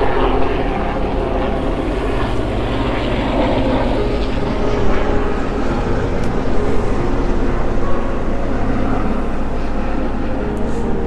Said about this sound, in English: I'm going to wait for this helicopter to go past.